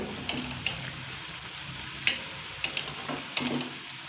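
Red capsicum chops deep-frying in oil over a medium flame, giving a steady bubbling sizzle broken by several louder spitting bursts.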